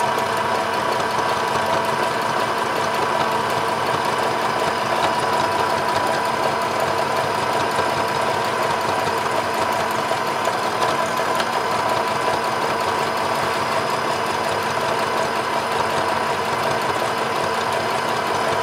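A sewing machine stitching tote bag fabric a quarter inch from the edge, with a loud, continuous mechanical whir and rapid needle vibration that stays even throughout, with no pauses.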